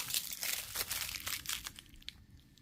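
Double protective tape is peeled off a subscription nail polish box, giving close, quiet bursts of crinkly tearing and rustling over a couple of seconds, with no speech.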